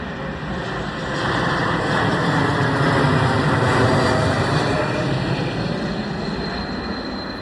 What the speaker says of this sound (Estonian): lennukid on ju ka siin nüüd